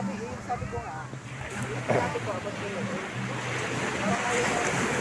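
Waves roll and wash against the shore with wind buffeting the microphone, while people talk nearby.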